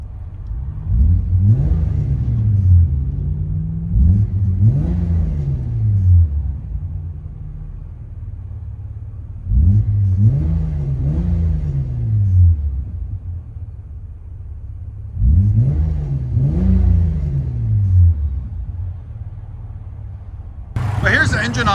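Exhaust of a 1997 Lexus LX 450 with a 4.5-liter inline-six and Borla ProXS muffler, heard from inside the cabin: three pairs of rising and falling rev blips over a steady low idle rumble.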